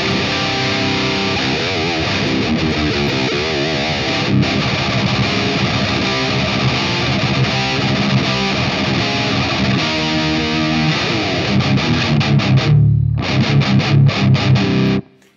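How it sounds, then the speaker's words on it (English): Heavy distorted electric guitar through a boosted Mesa Boogie Rectifier ToneX tone model, loud continuous riffing with chugging chords, a brief gap, then stabbed chords before cutting off. "I'm gonna choose a tone model from my Mesa Boogie Rectifier pack"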